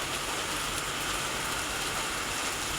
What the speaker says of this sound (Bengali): তোমরা কি বৃষ্টির সাউন্ড শুনতে পাচ্ছ?